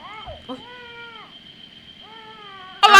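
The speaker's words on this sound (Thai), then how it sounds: "เสียงมันแมวร้องไห้เหรอ" Plaintive cat-like crying from the horror game Don't Look Back, several drawn-out wailing meows with pauses between them, clear and close, ending in a sudden loud burst of noise.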